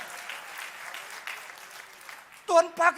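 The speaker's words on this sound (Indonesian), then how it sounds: "tepuk tangannya yang paling meriah buat Tuhan kita" A church congregation bursts into short, loud applause at a worship service, rising suddenly after a stretch of talk and lasting under a second before fading.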